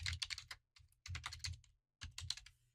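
Typing on a computer keyboard while filling out an online payment form, with three quick bursts of close, crisp key clicks separated by short pauses.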